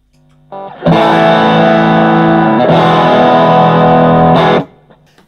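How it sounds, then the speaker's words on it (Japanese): Electric guitar played through a digital multi-effects unit set to distortion: a brief picked note, then two loud, buzzing strummed chords, each sustained for a couple of seconds before cutting off. "中でねデジタルのこの計算式でこの歪みの音をわーっとこう作り出してるんですけども"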